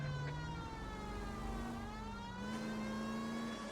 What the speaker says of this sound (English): I turn on the sirens